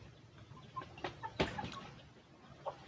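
Chicken clucking faintly in the distance, a few brief scattered calls with one sharper, louder cluck midway through, against quiet background noise.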